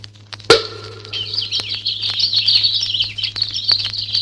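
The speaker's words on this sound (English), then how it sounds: "These nightingale's tongues aren't well-seasoned at all. They're still chirping." A cork pops from a bottle, then a continuous, high, warbling stream of nightingale-like chirps and trills follows, a comic bird-song sound effect played close and bright over a low steady hum.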